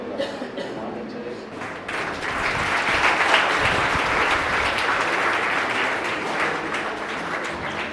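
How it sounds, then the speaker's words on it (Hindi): Audience applause at a silver jubilee anniversary ceremony, steady broadband clapping that swells after a couple of seconds and continues throughout, with faint talk mixed in. "मीठी मीठी तालियां बजती रहनी चाहिए।"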